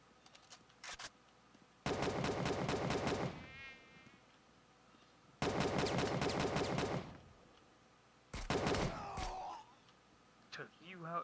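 Gunfire in the video game Wasteland Travelers, three long loud bursts of rapid automatic fire separated by near silence, with a few faint single shots at the edges and a voice speaking briefly.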